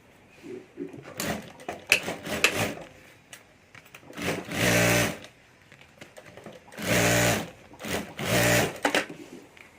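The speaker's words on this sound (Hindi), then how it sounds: "और अब यहाँ ऊपर हमें सिलाई कर देनी है। तो यहाँ भी ऊपर एक सिलाई कर देता हूँ मैं।" A sewing machine stitches the top edge of a handbag lining in several loud, close bursts of running, separated by pauses and quieter handling sounds.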